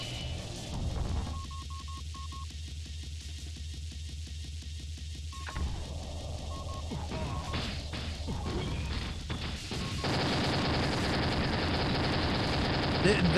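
Rapid video game gunfire from double gold pistols, a dense rattling burst of shots amid crashes and booms, loud and continuous with shifting layers of effects and a voice speaking over parts of it.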